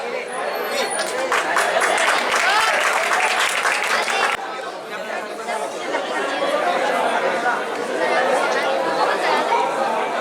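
Audience at a community welcome ceremony in Nagda claps loudly amid crowd chatter for a few seconds, then the applause drops away and babbling voices and talk continue.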